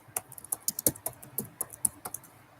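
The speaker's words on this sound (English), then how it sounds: "I'm typing it out right now." Fingers type rapidly on a computer keyboard, a steady run of crisp, close clicks and taps with no one speaking.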